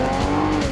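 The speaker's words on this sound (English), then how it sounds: "Rev up your engine!" A car engine roars steadily at high revs, loud and close, with a sustained droning tone.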